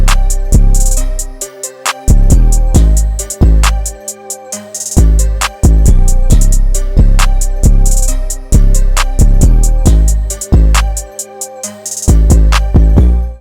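A Flutter 808 from an FL Studio drum kit plays a bass melody that follows the root notes, starting on C: loud, booming sub-bass hits in a steady rhythm, layered with a bright melodic loop and crisp percussion, with no voices.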